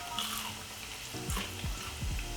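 Soy curls sizzling and crackling in hot frying oil, a steady hiss with scattered pops and bursts, close and fairly loud, no voices.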